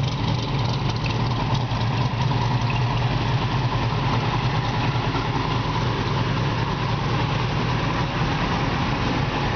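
A 1959 Chevrolet Corvette engine with a mild cam, long tube headers and dual exhaust idles steadily with a low, lumpy rumble, a mild uneven lope in the exhaust, continuous and close with no talking.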